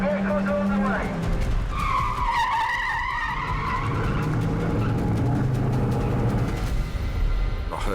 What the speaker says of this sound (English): I heard the rumour that they wanted to do a car chase here.